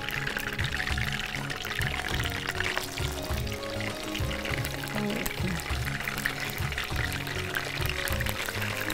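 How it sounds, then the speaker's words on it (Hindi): Kebabs frying together in a pan of oil give a dense, steady sizzle and crackle that runs without a break under a faint low background hum. "इसको हम साथ साथ फ्राई कर लेंगे।"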